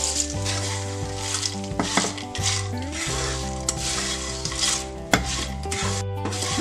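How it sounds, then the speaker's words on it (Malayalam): Fried pappadam is stirred into onions in a pan, with a continuous sizzle and the scrape and clack of a spoon against the pan at close range. "നമുക്കിതിലേക്ക് പപ്പടം കാച്ചിത് ഇട്ട്"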